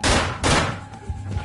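Two loud, close gunshots ring out in the stealth video game Manhunt, the second following half a second after the first, each with a brief decaying tail.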